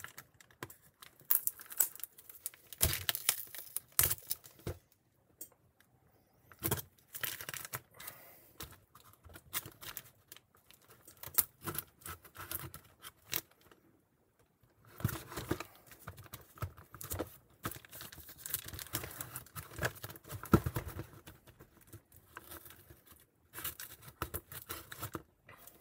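A box is sliced open through its shipping label with a blade, giving bursts of scraping, tearing and crinkling cardboard and plastic that come in irregular clusters with short pauses, close up, and no voices.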